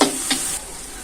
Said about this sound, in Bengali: পেঁয়াজগুলো ভালোভাবে ভেজে নিব